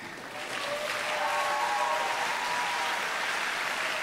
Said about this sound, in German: Ein Applaus für Finn Holetzka, nicht für die Wertung.